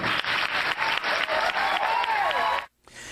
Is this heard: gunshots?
no